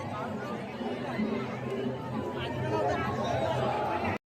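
A packed crowd at the Varsuai Aai Jagran celebration in Pen Vashi fills the air with a constant babble of many voices nearby, loud and unbroken until it cuts off abruptly.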